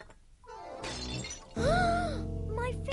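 A cup shatters on a hard surface with a bright crash and scattering shards, while voices and background music carry on around it.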